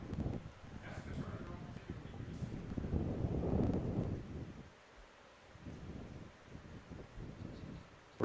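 Gusty wind buffets the microphone outdoors at an amateur baseball game, a loud, continuous low rumble that swells and fades in waves, with faint voices underneath.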